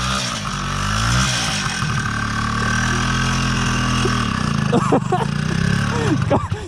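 An Izh Planeta 5 motorcycle engine runs steadily at idle and low revs, fairly loud and close, with people talking over it partway through.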